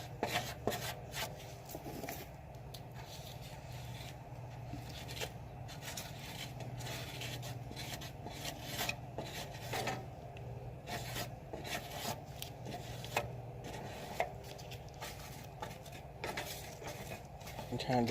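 Body filler is spread over welds in a car engine bay with a spreader, giving repeated close scraping and rubbing strokes in an uneven rhythm, fairly quiet against a low background hum.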